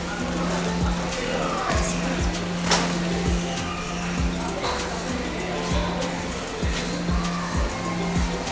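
A Jeep SRT drives past with a loud engine roar and repeated low rumbling revs, tire noise and a steady hum throughout, close and busy with no talk over it.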